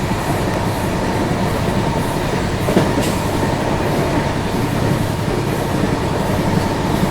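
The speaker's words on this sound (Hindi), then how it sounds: "ऑलमोस्ट 100 kmph की स्पीड में अपनी ट्रेन चल रही है" A Dibrugarh Rajdhani Express runs at about 100 km/h, giving a loud, continuous rumble of wheels and carriage with faint rhythmic clatter, heard from inside the train and steady throughout.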